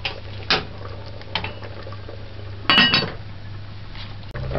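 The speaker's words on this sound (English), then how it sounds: "Stir this in." A metal spoon stirs ketchup into a pot of Jamaican black spot broad beans with cow skin, giving a few soft clinks and scrapes against the pot over a steady low hum.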